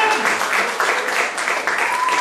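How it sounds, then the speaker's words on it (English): A crowd at a bar mitzvah hypnosis show claps in a brief, lively round of applause, dense and close, with faint voices mixed beneath the clapping. "Let's give them a round of applause."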